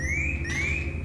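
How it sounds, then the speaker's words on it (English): A Dräger X-zone gas detector sounds its audible area alarm, a loud, steady electronic tone holding a high rising sweep, which restarts once partway through. No voices are heard over it. "this is detected by the Dräger X-zone, which immediately emits an audible alarm and illuminates red."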